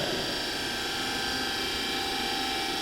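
A DC machine runs steadily at about 1566 rpm on a Swinburne test bench, giving a loud, unbroken hum and whine that holds at constant pitch and level throughout.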